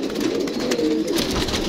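A pair of golden pigeons cooing while eating scattered grain, soft repeated low coos close by against a steady background.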